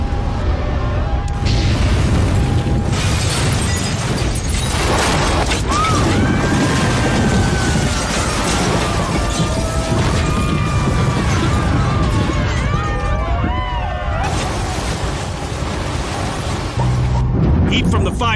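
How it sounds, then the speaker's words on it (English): Building floors collapsing after a fire, the sixth floor giving way and upper floors crumbling, heard as sustained loud rumbling crashes and debris falls with dramatic music and narration layered over them. "The 6th floor gives way, causing the floors above it to crumble."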